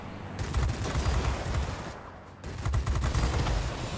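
Rapid bursts of aircraft cannon fire from a Spitfire V DB 605 fighter in World of Warplanes, loud and dense, with a brief pause near the middle before the fire resumes.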